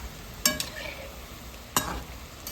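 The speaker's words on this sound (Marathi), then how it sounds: "थोडंसं गोल्डन रंगावर छान तळून काढायचे." Puris deep-fry in hot oil with a continuous low bubbling sizzle, marked by two sharp clinks or stirs of a metal utensil against the pan; no speech.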